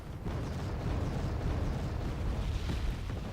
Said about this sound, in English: They fire a barrage at our artillery here